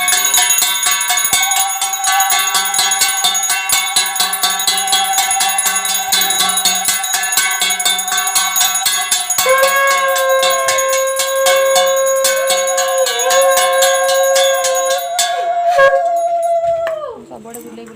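A small prayer bell rung rapidly and continuously over a steady droning tone during a Hindu Savitri Vrat ritual, loud and close, stopping near the end.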